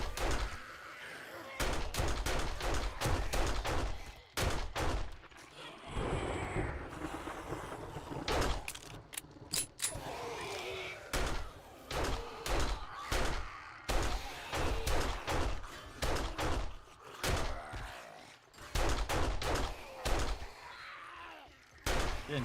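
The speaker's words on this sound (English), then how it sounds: "And shoot them in the face, everybody." Rapid gunfire from shooting zombies in the survival game 7 Days to Die, with dense bursts of sharp shots cracking repeatedly across the whole stretch, sometimes in quick volleys, over a low steady background.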